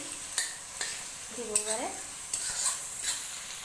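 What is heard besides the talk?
green chilies frying in pan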